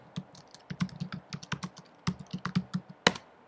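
Someone types an Nginx install command on a computer keyboard in a CentOS 8 terminal, producing a close, brisk run of irregular keystrokes with a sharper, louder key press near the end.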